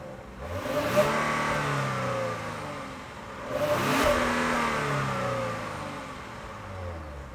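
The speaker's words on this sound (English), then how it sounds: "lovely looking dual exhaust system on the bottom. So let me just let you hear it." A 2022 Genesis G80 with all-wheel drive and a dual exhaust is revved twice in deep, smooth rises and falls, moderately loud and close by with no talking over it.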